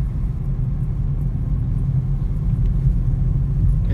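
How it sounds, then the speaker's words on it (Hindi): Tata Tigor XZA automatic car driving on a road between Pauni and Reasi, heard from inside as a steady low engine and road rumble throughout, with no talk. "बहुत अच्छी गाड़ी चला रही है"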